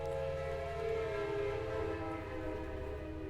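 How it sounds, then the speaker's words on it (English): Trains in a rail yard give a loud, steady drone of layered horn-like tones that holds for the whole stretch, with no talking. "Sounds like we're in the train yard, doesn't it?"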